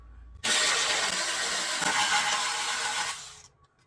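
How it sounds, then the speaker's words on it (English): A 3/8 socket ratchet is turned steadily on rear bolts of a Toro push mower, giving a loud, close, continuous clicking rasp that lasts about three seconds and then stops. "a 3/8 socket for the 2 bolts in the back here. Let's go ahead and do that."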